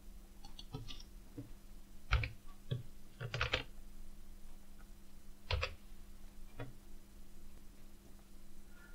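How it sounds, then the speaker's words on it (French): Someone types a cell reference into a spreadsheet on a computer keyboard, a short run of separate clicky keystrokes spaced unevenly, close and quiet with a steady low hum underneath. "commençons par taper sa référence, par exemple B1 dans la cellule A3"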